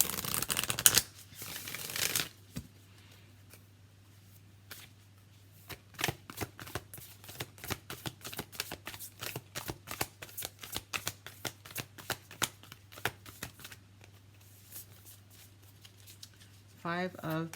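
Angel and Ancestors oracle cards by Kyle Gray being shuffled in a steady run of quick, crisp riffling flicks over a low constant hum, with a brief rustle at the start.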